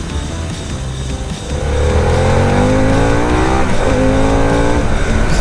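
A Harley-Davidson Pan America motorcycle engine revs up loudly and close by, its pitch climbing in rising sweeps as it accelerates, then settling into a steady strong roar.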